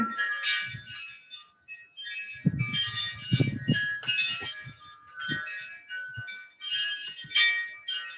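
Wind chimes ring during a Sunday church service, light metallic tones sounding in scattered, irregular clusters of overlapping strikes and then decaying.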